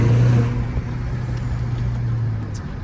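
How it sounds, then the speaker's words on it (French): Renault Clio 4 RS with stock exhaust droning inside a tunnel, a steady low engine hum with a strong low tone that holds at near-constant level for a few seconds, without speech. "Est-ce qu'on pourrait faire peut-être écouter à nos viewers le son moteur dans le tunnel?"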